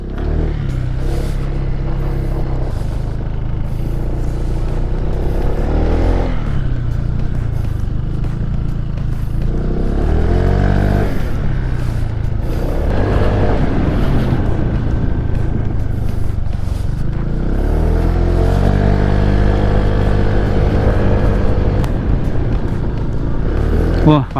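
Honda Vario 160 scooter on a test ride, its engine droning steadily and swelling as the throttle opens, with rider talk over it and strong wind buffeting throughout.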